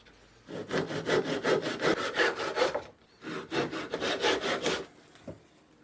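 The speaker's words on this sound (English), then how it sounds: "now we can saw off the extra wood" A hand saw cuts excess wood off an axe handle during a hatchet restoration. Steady back-and-forth strokes come in two close, loud bursts with a short pause between them, and no one speaks.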